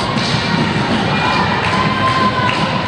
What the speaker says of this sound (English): Crowd trying to get behind Chad Cross